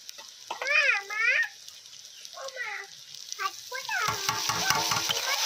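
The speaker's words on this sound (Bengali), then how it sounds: "পেঁয়াজ এখানে ভাজা হয়ে গেছে, এরপর আদা রসুন বাটা দিয়ে দেবেন।" Ginger-garlic paste goes into a pan of fried onions and breaks into a steady sizzle in the final second or so, after several high, wavering calls heard nearby in a village kitchen.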